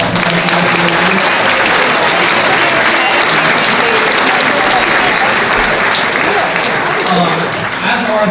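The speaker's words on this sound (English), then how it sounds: "Could you just give a big round of applause for the people who hosted the tables here tonight?" Audience applause at a spring gala fundraiser for a women's center, thanking the table hosts; a loud, dense, sustained round of clapping fills the whole room throughout.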